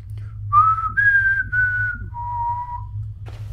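A clear whistled melody of a few sustained notes, the Hunger Games tune in the game Slenderman: The Arrival, gliding slightly between pitches, heard alone over a low steady hum.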